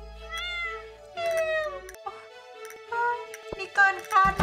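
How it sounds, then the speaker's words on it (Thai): A cartoon cat on a Stardew Valley farm meows in a string of short, bright calls over soft game music, with a sharper cluster of meows near the end. "คิดว่าเธออยากลองเลี้ยงแมวที่ฟาร์มไหมล่ะ"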